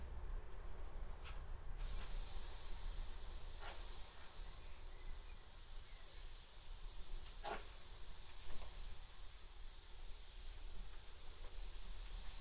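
An airbrush sprays paint onto a VW T5 fuel flap for a Darth Vader design: a steady, close, continuous hiss with a few faint clicks, and no talking.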